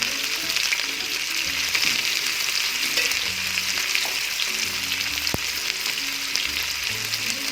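Onions fry in a pressure cooker for mutton aloo, giving a loud, continuous close-up sizzle with occasional stirring clinks and one sharp tap.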